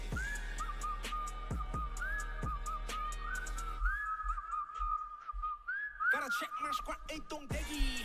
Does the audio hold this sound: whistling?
yes